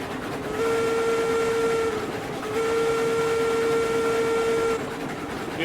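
A steam locomotive in the RailRoads Online video game sounds two long, loud whistle blasts, the second longer than the first, over train rumble.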